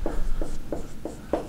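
A pen scratches across paper in five short, evenly spaced strokes, close and distinct over a low room hum.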